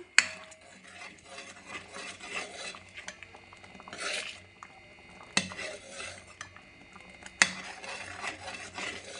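Spoon scraping and stirring in a metal pan as dry fruits are mixed into thickened milk for homemade mango kulfi, a steady rasping scrape with sharp clinks at intervals, close and alone.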